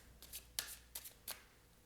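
Tarot cards shuffled by hand, four quick riffling bursts in a row, soft and close in a quiet room, with no voices.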